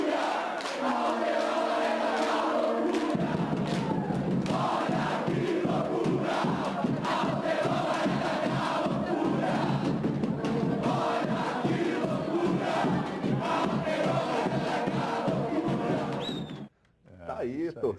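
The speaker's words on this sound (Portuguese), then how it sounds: "Tá aí, torcida do Galo, fazendo a festa em Três Corações, Lenilson, com homenagem e tudo." Atlético Mineiro football fans massed in Três Corações, a loud crowd roaring and chanting together in a continuous rhythmic swell, cutting off abruptly near the end.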